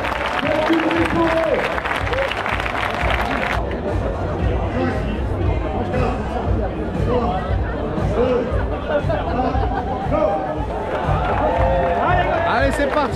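Crowd applause and cheering at the start of a 27 km trail race, dense and steady outdoors with a busy hubbub of chatter mixed in throughout.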